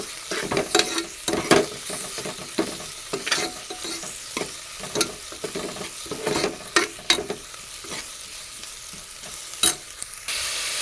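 Fried onions with ginger garlic paste being stirred in a pan for vangi bath, a steady sizzle broken by repeated scraping strokes of a spoon, close and fairly quiet, with no talking.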